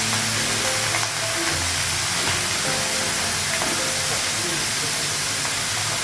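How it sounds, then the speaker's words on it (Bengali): Cumin seeds drop into hot oil in a Bengali home kitchen and sizzle loudly and evenly, a dense hiss that lasts the whole stretch with no letup. "জিরে করে দিলাম।"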